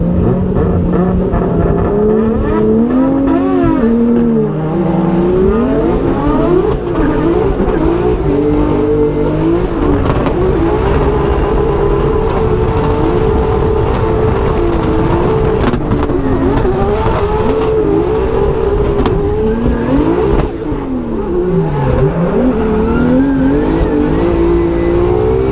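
Formula Drift car at Orlando on a practice chase lap, with a loud engine revving hard and constantly, pitch rising and falling through shifts and slides, with occasional tire squeal, close and unbroken.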